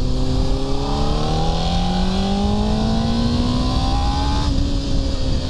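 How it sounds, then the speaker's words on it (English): Honda CBR600RR motorcycle engine pulled at full throttle in third gear, a loud steady roar whose pitch climbs smoothly for about four seconds before a brief dip near the end, with no talking. "if you want to see full throttle at 3rd gear"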